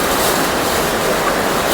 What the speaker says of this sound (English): We will be setting our tent near the waterfall by the river.